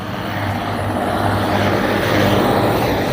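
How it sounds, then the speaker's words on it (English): A big old tractor engine rumbles past on a rural farm road, a steady loud low drone with constant harmonic hum lasting throughout, rising slightly toward the end as it nears. "A big old tractor."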